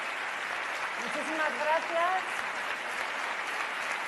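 Applause from a crowd at a political event, steady clapping throughout while a speaker's voice briefly thanks the audience over it.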